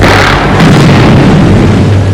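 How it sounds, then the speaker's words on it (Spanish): Demolition charge detonating on a bridge in Vancouver, a loud, sustained booming blast that fills the whole moment with dense rumbling and debris noise, heard alone without voices. "A las 5 de la tarde se produjo la detonación."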